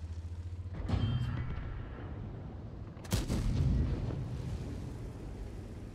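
The Löwe tank's main gun fires twice in World of Tanks, each shot a heavy booming blast with a long rumbling tail, spaced about two seconds apart over a constant low engine drone.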